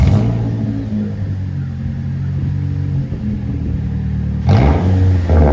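A 2014 Toyota Corolla S with a 1.8-liter four-cylinder and a muffler delete drones loudly at steady revs, then surges sharply louder near the end as the engine is blipped, close to the exhaust.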